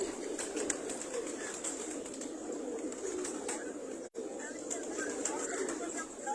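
Teddy and golden cross pigeons coo softly and repeatedly against a steady background hiss, with a voice speaking nearby.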